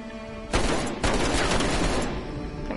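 Rapid bursts of gunfire in Black Ops Cold War Zombies, with two sharp onsets starting a sustained stretch of shooting at moderate level and no talking.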